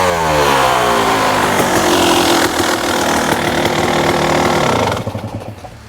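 A 1999 Kawasaki KX250 two-stroke dirt bike with a JSV cone pipe revs hard up close, its loud, raspy note holding high before dropping off into sputtering idle pops.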